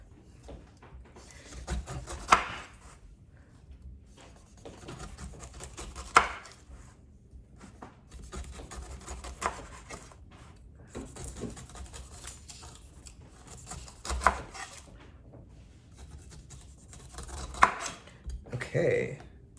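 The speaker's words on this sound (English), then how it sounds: "this might actually be the right way to cut a pineapple" A knife cuts the edges off a pineapple on a board: a few sharp, close chopping thuds spaced several seconds apart, with quieter slicing and handling sounds in between and no speech.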